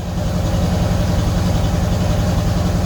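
A 1984 Corvette C4 with Walker mufflers idles in a steady, even low rumble, close and continuous with no talk.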